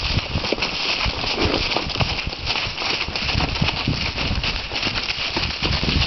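Horse hooves clip-clop steadily and continuously, close and fairly loud, a working horse moving at a brisk pace with a broadband rushing background throughout.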